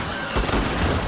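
Gunfire in the Xbox One video game State of Decay 2, a dense, loud, continuous rattle of shots with a sharper burst partway through.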